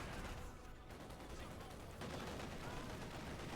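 Artillery barrage in Company of Heroes 2, a World War II strategy game match between Wehrmacht and Soviet forces: dense, continuous rumbling gunfire and explosions, loud and sustained throughout, with a heavier burst partway through.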